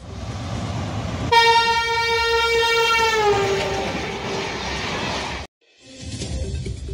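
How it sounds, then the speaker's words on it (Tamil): An express train on a trial run at 125 km/h on the newly finished Theni–Bodi line sounds a loud sustained horn that slides downward as it passes, over a steady rushing roar that cuts out abruptly and then resumes. "125 கிலோமீட்டர் வேகத்தில் விரைவு ரயில் இயக்கி சோதனை."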